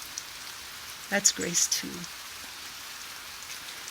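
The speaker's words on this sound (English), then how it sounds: "I don't know if you can hear the rain." Rain falling outside, a soft continuous patter heard indoors throughout, with a brief spoken phrase over it.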